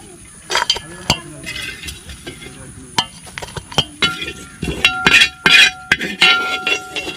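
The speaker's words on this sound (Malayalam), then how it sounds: "അപ്പോൾ നമുക്ക് ഇങ്ങനെ പാത്രത്തിലേക്ക് കോരിയെടുക്കാം." A spoon scrapes and clinks as roasted coconut masala is scooped from a hot pan into a vessel in a Kerala kitchen. Irregular metallic taps and scraping strokes come over a faint sizzle, with a steady high hum behind them.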